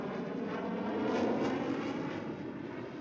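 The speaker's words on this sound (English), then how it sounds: "The thrust was via a new Rolls-Royce jet engine" A loud, steady Rolls-Royce jet engine roar from the US Air Force X-13 Vertijet, with a broad rushing hiss, holding constant throughout like an aircraft close by.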